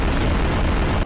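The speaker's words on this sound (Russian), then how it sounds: "мега взрыв еще одной бомбы" A bomb explodes in the video game Garry's Mod, a dense, loud, close blast of broadband rumble filling the whole short moment before cutting off abruptly.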